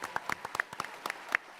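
Scattered hand claps from a small group at a Call of Duty: Infinite Warfare panel at San Diego Comic-Con, irregular and sparse, rising and falling over a couple of seconds with no voices.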